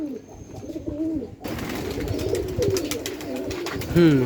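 Pigeons coo in their coops during the rainy season, low repeated calls overlapping with a steady wash of background noise that jumps up partway through.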